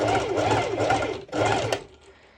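A sewing machine stitches stretch net fabric for a sporty top in short, steady rhythmic bursts of mechanical whirring, close and clear, pausing briefly between runs.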